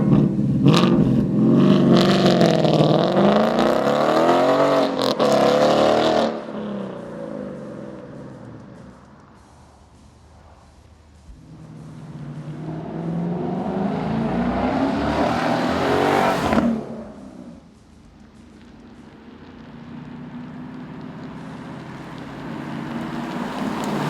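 From inside a 2015–2017 Mustang GT fitted with a Ford Performance sport cat-back exhaust, a loud engine revs and pulls through two strong acceleration runs, easing to a lower drone in between.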